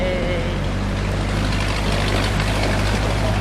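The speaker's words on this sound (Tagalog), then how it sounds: "Kotse, saka motor mo." A car and a motorcycle idle at a campsite in light drizzle, making a close, steady low engine rumble with a constant hum and no break, and no talk over it.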